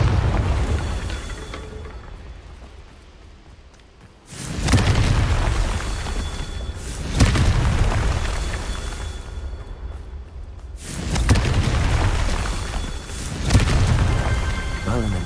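A spell explosion from a wizarding video game booms out in repeated bursts, each sudden blast followed by a rumbling fade, three or four loud detonations in a row with a voice underneath.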